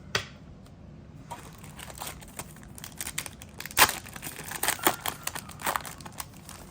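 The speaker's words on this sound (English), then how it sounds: "I rip from the middle of the pack because it opens it super easy, super quick" A Japanese Pokémon card pack torn open through the middle, producing soft crinkling and tearing foil sounds and light rustling of cards, quiet and close, with a few sharper crackles partway through.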